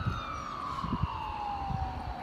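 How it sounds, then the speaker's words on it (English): An ambulance siren wails steadily while approaching an intersection in the early morning, its tone sliding slowly downward, loud and continuous under low rumbling road noise, with no talking. "An ambulance coming to an intersection there."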